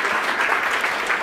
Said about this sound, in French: Nous pouvons vous applaudir